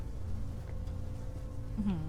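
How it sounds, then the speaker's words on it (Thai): Flies buzzing in a room in the horror video game Song of Horror, a continuous low insect drone over a dark ambient hum, with a brief closer buzz passing near the end. "เสียงแมลงวันก็เหมือนจริงเกิน"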